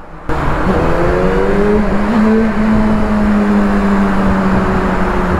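A motorbike engine revs loudly and continuously during a sound check, its drone rising and falling in pitch as the throttle is worked, with no talk over it.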